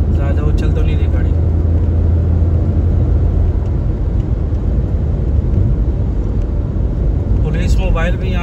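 Car driving fast, close to 100, along a motorway in Karachi; a loud, steady road rumble and engine drone continue throughout, with a brief higher whine near the end.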